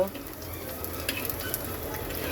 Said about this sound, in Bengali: রসুন ফোড়ন রসুনটাকে একটু হালকা ভেজে নেব